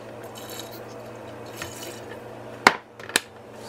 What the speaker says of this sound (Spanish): voy a agregar un cuartito más de agua tibia para que quede un poquito más caldosita